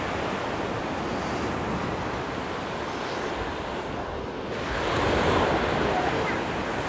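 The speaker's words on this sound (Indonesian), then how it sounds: "Oke, suasananya seperti ini di Pantai Wediombo." Ocean surf rolls in at Wediombo Beach in Gunung Kidul, a steady wash of breaking waves mixed with wind buffeting the microphone, swelling louder near the end.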